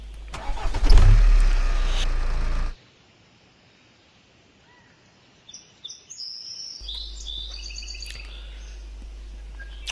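In a recycling center simulator game, a truck engine cranks and runs loudly for a couple of seconds, cuts out to near silence, then an idle hum returns with chirpy birdsong.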